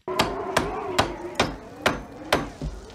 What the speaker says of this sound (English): You have to nail it shut! It's hammer nails!